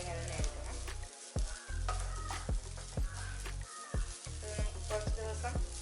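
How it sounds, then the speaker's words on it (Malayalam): Grated mature coconut roasting in a pan, with a spoon scraping and stirring in rhythmic strokes over a soft sizzle, close and clear, pausing briefly between stirs. "തേങ്ങയുടെ പകുതി എടുത്തിട്ടുണ്ട്. അതിനെ ഒന്ന് വറുത്തെടുക്കാം."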